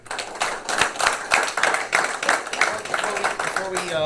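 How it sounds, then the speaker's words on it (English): Applause for returning alumni at a high school football team introduction, a crowd clapping in quick, uneven bursts that rise and fall for a few seconds, fairly close and loud. "So a little round of applause for the alumni guys that came out tonight."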